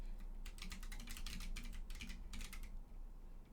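Typing on a computer keyboard in bursts of rapid clicking keystrokes with brief pauses between, close and fairly quiet over a low background hum.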